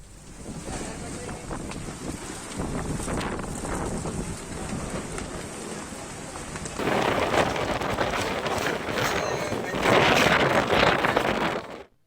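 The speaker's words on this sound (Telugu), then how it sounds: "వాంకిడి మండలంలో ఈదురుగాలులతో కూడిన వర్షం కురిసింది." Gusty wind roars and buffets the microphone during an unseasonal rainstorm in Telangana, surging louder partway through and staying rough and continuous. No distinct thunder stands out.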